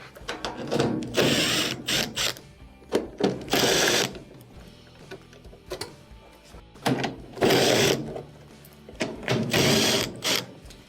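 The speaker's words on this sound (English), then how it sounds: "there's a few screws that'll have to be removed. We'll start with these 1/4 inches right through here." A power driver whirs in repeated bursts, removing quarter-inch screws from a washing machine with a power-fault diagnosis underway, loud and close with brief clicks and pauses between each screw.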